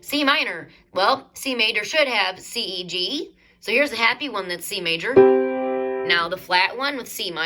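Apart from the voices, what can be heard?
None of the usual background noises is heard.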